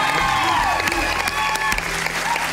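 Studio audience applauding at a singing competition elimination round, a dense, loud wash of clapping hands that continues throughout with faint crowd voices underneath.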